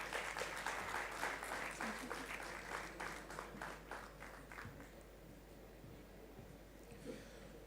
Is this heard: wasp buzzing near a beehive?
no